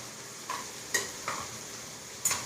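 Curry stirred in a pan on the stove, a quiet simmering hiss with three or four distinct spoon scrapes and clinks, faint and without voices.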